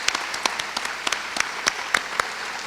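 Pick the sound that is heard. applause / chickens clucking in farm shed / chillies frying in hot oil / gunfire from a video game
applause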